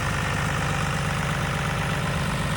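A John Deere 3350 tractor engine runs steadily with a low, throbbing, pulsing drone, close by and unbroken, with no voices.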